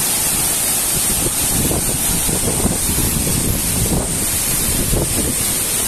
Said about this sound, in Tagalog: Malakas yung hangin dito ah.